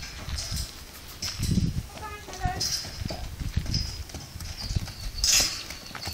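Hooves of a partbred Arabian horse clip-clop in a quick, irregular rhythm at close range, with brief talk and outdoor background noise around them.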